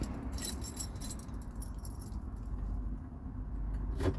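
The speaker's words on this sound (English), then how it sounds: "There's the keys." Car keys for a 1975 Vauxhall Viva barn-find rebuild jangle close by in several bright metallic bursts, quiet between shakes, over a low background hum in a workshop.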